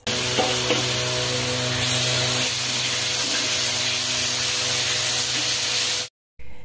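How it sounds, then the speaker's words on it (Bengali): Onion and garlic paste frying in a pan for a Bengali brinjal kalia, with a loud, steady sizzling hiss that runs close and continuous, then cuts off abruptly near the end. "এবারে পেঁয়াজ রসুন বাটাটাকে আমি ভালো করে এখানে ফ্রাই করে নেব।"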